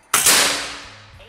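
A Bocap Gorilla 500cc full CNC air rifle fires a 13.6 grain Hercules pellet: a single sharp, close crack followed by a short ringing decay.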